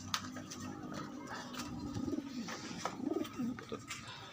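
A pigeon gives a few soft, low coos in short bursts over a noisy outdoor background, fairly faint and spaced a second or so apart.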